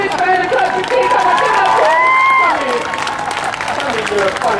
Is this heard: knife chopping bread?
no